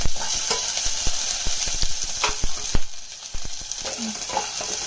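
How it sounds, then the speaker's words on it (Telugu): Tempering spices, curry leaves and dried red chillies crackle loudly in hot oil for buttermilk curry. A continuous close sizzle is punctuated by rapid sharp pops and stirring clicks. "ఆయిల్ బాగా వేడెక్కింది, పోపులు వేసేయండి."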